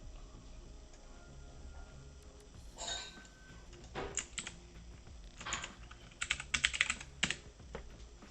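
Keystrokes on a Keytron computer keyboard, scattered at first and then clustering into bursts of rapid, close-up typing clicks over a quiet room.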